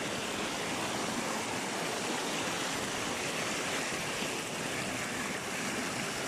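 Al Hada waterfall roars as a steady, loud broadband wash of falling water, constant and close throughout with no other sounds standing out.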